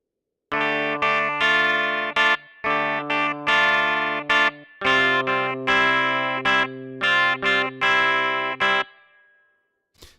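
Sampled 1970s funky Telecaster electric guitar with built-in grit plays short, bright chord stabs in a choppy, syncopated rhythm with crisp stops between them, heard alone with a faint ringing tail at the end.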